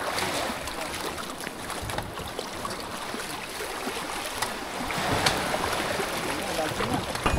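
A small boat rocking on open sea near stilt houses over the water, with steady wind and water wash filling the whole stretch and a few sharper splashes or knocks standing out near the end.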